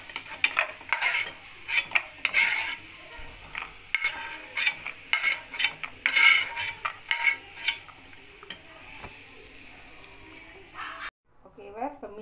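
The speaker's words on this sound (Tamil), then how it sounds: "முந்திரி பருப்பை போட்டு நல்லா நெய்யில் வறுத்து எடுக்கணும்." Cashew nuts fry in ghee while a spoon scrapes and clinks against the pan, giving a light sizzle under irregular stirring taps that carry on steadily up close.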